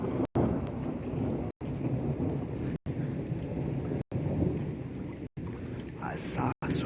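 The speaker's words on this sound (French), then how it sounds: "Il est stationnaire l'orage en fait." A violent, stationary thunderstorm delivers heavy torrential rain, with thunder rumbling beneath a loud, constant downpour; the recording drops out briefly several times.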